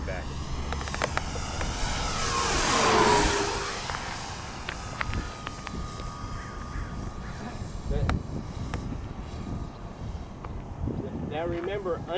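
FMS 1400mm Corsair RC model airplane making a high-speed pass: a motor whine swells to a peak as it sweeps close, then fades away, while someone talks throughout.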